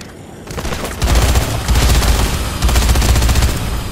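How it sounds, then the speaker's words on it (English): Gunfire in the zombie game Dead Rising 3, a loud dense volley of rapid shots rattling almost continuously for several seconds, with no talk. "Random shooting."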